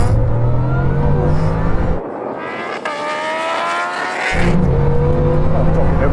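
Bugatti Chiron Super Sport hypercar, Kawasaki H2R and Ducati SP2 motorcycles in a quarter-mile drag race: loud, steady high-revving engine drone that cuts abruptly into a higher, rising whine, then returns to the deep roar.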